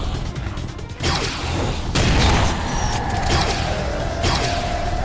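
Upgraded Dreamkiller shotgun firing in a video game, heavy mechanical blasts and clanking, creaky reload sounds, with a sustained whining tone drifting through the later shots.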